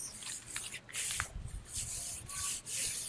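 Oil being rubbed across a Suburban/Blackstone griddle top in an RV to season it: a close, soft, continuous scrubbing and rubbing sound with uneven strokes and no speech.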